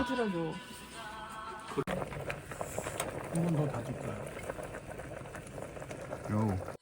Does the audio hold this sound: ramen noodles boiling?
yes